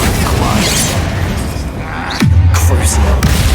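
A Confringo fire spell bursts in Hogwarts Legacy with a sudden heavy boom partway through, followed by a sustained low rumble, after a stretch of busy game noise.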